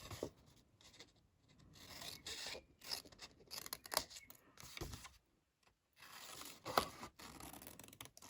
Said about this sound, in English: you can just take your snips to it and literally trim off the corners